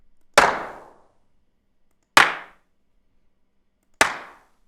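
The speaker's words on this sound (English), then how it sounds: "These are essentially just live claps that sounded dark and then added in some mixing to give it" Three dark live clap samples for hip hop drums, each a single sharp close hit with a short decaying tail, spaced about two seconds apart in otherwise silence.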